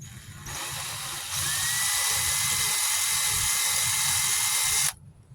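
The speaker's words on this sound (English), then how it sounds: "And you run your drill through it again." A power drill spins up and runs in a loud, steady high whine for a few seconds, then stops abruptly, run through a port during oil pressure switch work on a 2017 Chevy Equinox 2.4 engine.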